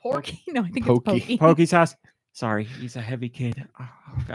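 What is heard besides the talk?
No distinct noise like a dog, phone or traffic.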